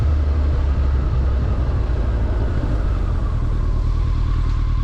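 Honda Blackbird motorcycle ridden over rough Johannesburg roads: a loud, steady engine drone with heavy low rumble and road and wind roar running unbroken throughout, with no talking.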